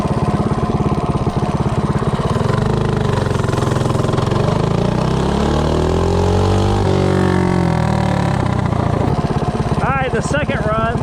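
Coleman CC100X minibike with a Predator 212 engine and a 12-tooth clutch revving up hard on a 0-30 acceleration run, a loud steady engine drone whose pitch sweeps upward and then settles, with a brief sharper whine near the end.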